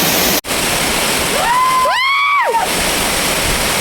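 A waterfall pours in a continuous, loud broadband rush, with a brief whistling, rising-and-falling tone passing over it midway.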